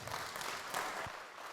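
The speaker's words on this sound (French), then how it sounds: "on peut l'applaudir" A church congregation applauds briefly during a French-language sermon, a soft, fairly distant patter of many hands that stays even and faint throughout.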